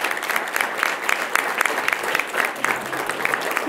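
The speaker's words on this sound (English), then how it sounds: "If we can give him a big round of applause" Steady applause from a crowd, dense overlapping clapping at a fairly loud level throughout, with no pauses.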